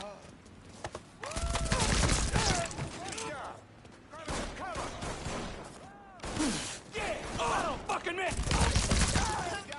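Rapid bursts of gunfire from the open-world crime game Mafia III in New Bordeaux, loud volleys and automatic fire rolling through most of the stretch with brief lulls, mixed with clattering impacts and a voice talking over the action.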